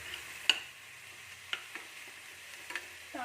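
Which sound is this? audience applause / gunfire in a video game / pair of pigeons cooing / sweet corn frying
sweet corn frying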